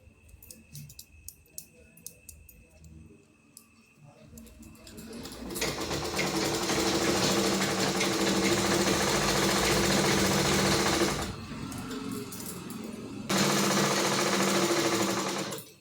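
A sewing machine run with a foot pedal: sparse clicks and a thin tone give way to a loud, fast whirring run, a brief slowdown, then another burst of stitching, with no talk.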